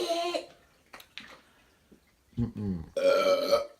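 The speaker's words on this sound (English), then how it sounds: "You heard a lot of burps." A 9-year-old child burps after drinking soda, letting out several loud, drawn-out belches close to the microphone, separated by short quiet gaps and a few brief vocal sounds.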